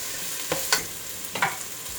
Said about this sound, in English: yellow onion diced, and I'm gonna add it here. Move it around.